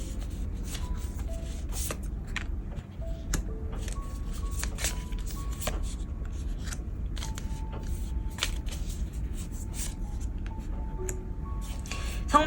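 Tarot cards shuffled steadily at close range, a continuous papery riffling and sliding that runs unbroken throughout, with faint tonal bits in the background and no talk.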